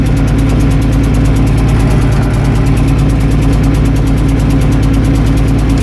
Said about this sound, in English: Problem with these older tractors, you get a lot of rattles.